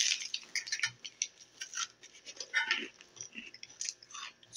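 Close, crisp crunching of someone chewing, irregular bites and grinding in quick succession, with no speech.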